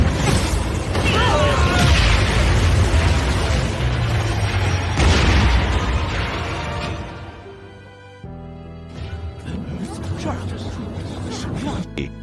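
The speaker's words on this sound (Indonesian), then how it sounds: "ledakan besar yang mengerikan terjadi lagi" A large explosion booms with a deep, sustained roar and rumble, cuts off abruptly, then a second burst of noise follows, with voices mixed in.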